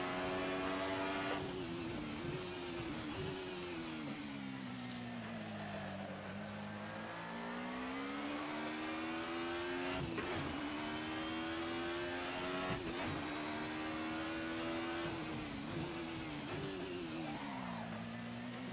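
A 1990s DTM touring car engine at Donington Park in a sim racing game revs continuously, its pitch climbing through gears and dropping on braking, with brief shift blips, steady and close.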